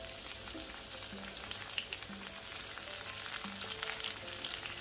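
Chopped garlic, cumin seeds and a broken dried red chilli fry in oil over a low flame, giving a steady, soft, even sizzle with no talking.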